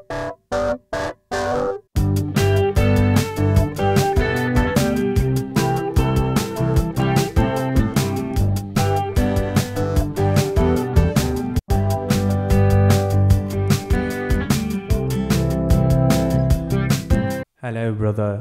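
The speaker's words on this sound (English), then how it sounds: "I've loaded up a Scarby A200, which is a Wurlitzer plugin, running it through a saturator and a phaser" Wurlitzer-style electric piano plugin run through a saturator and a phaser plays steady, dense chords with a gritty, swirling tone; a few short stabs open the passage, then continuous playing with a brief dropout near the end.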